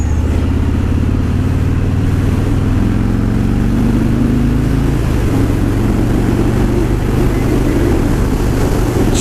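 A 2017 Harley-Davidson Road King Special rumbles along on the road, its steady low engine drone loud and continuous, with heavy wind noise over it throughout and no voices.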